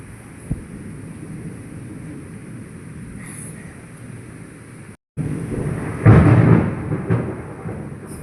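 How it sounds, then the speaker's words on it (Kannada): A deep, low rumble of thunder rolls in over steady rain at night, swelling loudly after a brief break in the sound. "ಅಷ್ಟು ಗುಡುಗು ಬರ್ತಾ ಉಂಟು"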